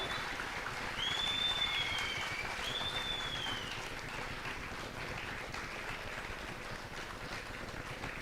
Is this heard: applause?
yes